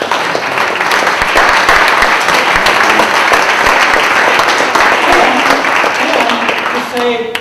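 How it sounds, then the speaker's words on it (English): Sustained audience applause at a peace talk held at the Dallas Peace Center, a dense steady wash of clapping from a crowd that keeps up for several seconds before tapering near the end. "Let's have a round of applause for that."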